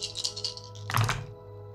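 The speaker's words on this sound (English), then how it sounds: "The wonderful, wonderful thud of dice hitting a dice tray." Dice drop onto a dice tray during a tabletop roleplaying session: a light rattle, then one solid, muffled thud near the mic, with no talking.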